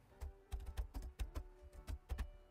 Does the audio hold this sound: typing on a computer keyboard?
yes